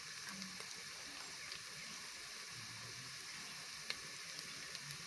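Dry spice powders of chili, turmeric, coriander and salt being stirred into hot oil, a steady soft sizzle with faint occasional scrapes of the spoon, no voices.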